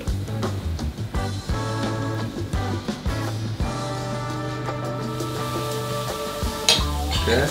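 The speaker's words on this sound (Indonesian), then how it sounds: "Nah, sekarang saatnya kita masak dulu si bumbu halusnya" Ground spice paste fries in oil in a pan with a steady sizzle, while a spoon scrapes and clinks against the pan as it is stirred; a low humming tone runs beneath, close and prominent.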